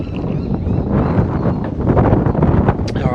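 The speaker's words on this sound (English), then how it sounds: "especially if it's cold and windy like it is here" Strong wind buffets the microphone outdoors on a cold day beside a Toyota Prado 150, a steady broadband roar with gusty swells and no talk.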